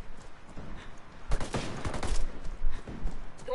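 Bursts of rapid gunfire in Ghost Recon Wildlands PvP, a loud volley in the middle with scattered shots before and after.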